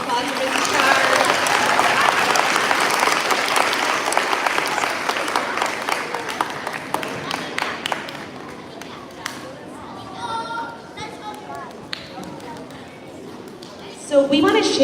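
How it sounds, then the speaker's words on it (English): A school crowd claps for Mr. Chard at the 2024 Maine Teacher of the Year announcement, dense applause for about eight seconds that fades into scattered claps, chatter and a speaking voice. "So another round of applause for Mr. Chard."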